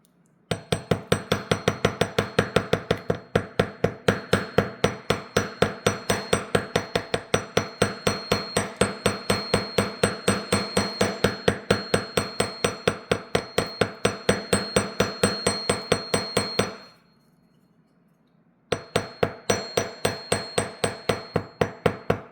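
Fast, steady hammer blows strike metal against the edge of a hammering block, dozens of sharp ringing taps in an even rhythm, close and loud, with a brief pause near the end before the hammering resumes.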